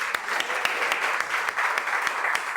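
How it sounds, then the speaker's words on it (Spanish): A church congregation applauds together in a steady, dense wash of many hands clapping, heard at moderate volume with no talk over it. "Acompáñenme a darle un fuerte aplauso a nuestro Dios."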